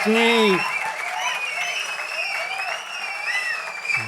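A mushaira poetry recital audience claps at moderate volume behind a voice speaking and drawing out words over it.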